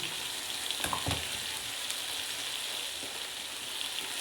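Garlic and a little chili frying in a pot for samp and beans, a soft, close sizzle with a few brief stirring scrapes, fairly quiet and without voices.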